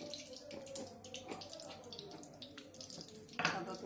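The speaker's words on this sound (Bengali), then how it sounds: "সাদা তেল একটু দিয়ে দিই, তেলটা একটু বেশি করে দিতে হবে।" White cooking oil poured generously into a pan for deep-frying taal fritters, a soft trickling, watery stream running steadily at moderate level, swelling briefly louder near the end.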